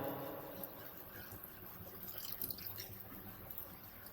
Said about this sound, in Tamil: அடுத்து நம்ம அந்த பாசி பருப்பு இருக்கு இல்லையா அந்த தண்ணி பார்த்துக்கங்க அதையும் ஊற்றணும்